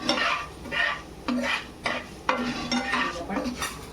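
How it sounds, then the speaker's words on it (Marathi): Curry leaves roast in hot oil while a spoon stirs and scrapes the pan in repeated strokes, with a steady sizzle between the strokes. "अशी तेलात भाजून घ्यायची आहे"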